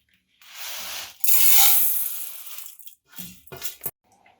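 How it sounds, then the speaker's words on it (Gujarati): Lentils and rice being washed in water in a pot, with close, bursty swishing and pouring that stops and starts, ending in a few sharp sloshes. "તો આ બધા જ દાળ અને ચોખાને આપણે એક વાસણમાં લઈ અને પહેલાં તો 4 થી 5 પાણીથી ધોઈ લઈશું"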